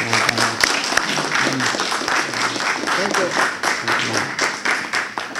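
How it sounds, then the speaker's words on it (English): A crowd at an outdoor Veterans Day remembrance ceremony at a veterans' post claps warmly for an honoree, dense steady applause filling the whole stretch while a voice speaks briefly over it. "I want to give Bobby a big round of applause one more time"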